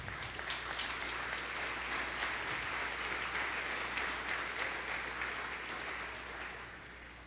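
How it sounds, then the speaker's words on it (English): A conference crowd at Big Omaha 2009 claps in a sustained, even round, heard somewhat distant and modest in level, tapering slightly at the end. "I think Jeff and Dusty definitely deserve a round of applause"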